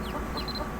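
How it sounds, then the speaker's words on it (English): Chickens in the Mabinogi video game cluck softly in a brief burst, a few short high chirps over a steady game background with no talking. "The chickens are going bok, bok, bok, bok, bok."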